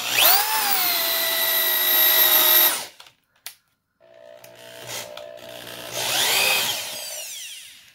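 A power drill fitted with a SpeedBor auger bit bores holes into wood at about 1,000 RPM, giving a loud, close whining grind that halts briefly and then starts again for a second hole.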